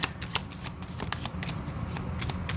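Oracle cards are shuffled up close in a series of quick riffling flutters and soft slaps. The bursts repeat rapidly and evenly for a few seconds.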